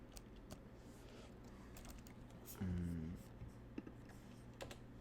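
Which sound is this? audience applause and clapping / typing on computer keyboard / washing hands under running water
typing on computer keyboard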